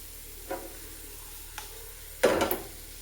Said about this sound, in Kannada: ಶೇಂಗಾ ಫ್ರೈ ಆಗಿದೆ ಈಗ ಚೆನ್ನಾಗಿ.